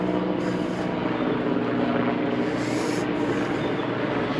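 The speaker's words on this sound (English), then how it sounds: "I've got a chopper to ruin that aesthetic." A helicopter's rotor and engine drone continuously overhead in Sydney, a steady broad roar with slight pulsing, no voices.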